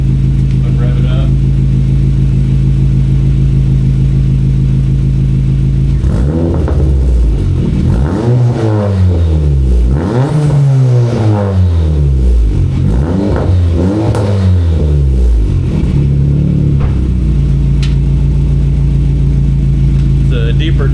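Car engine fitted with a resonator-only exhaust, idling with a low steady hum, then blipped through several revs that sweep up and down in pitch with a deep tone before settling back to idle.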